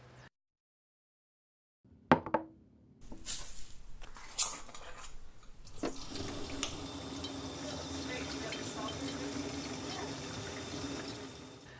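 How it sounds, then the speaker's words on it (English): Water pours steadily into a container to mix with salt, starting after a few clicks and knocks, then settling into a continuous, moderately loud rushing stream. "Mix up some salt and water."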